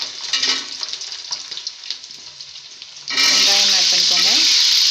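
Garlic dropped into hot oil for a Tamil fish curry (meen kulambu) sets off a sudden loud, steady sizzle partway through, after quieter kitchen clatter, with someone talking over the frying.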